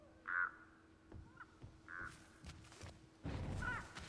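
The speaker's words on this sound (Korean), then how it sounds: "왜 까마귀가 울죠?" Crows cawing in the horror video game Dead by Daylight, two distinct harsh caws followed by a louder cluster of calls near the end, mixed with soft thuds and ambient game noise.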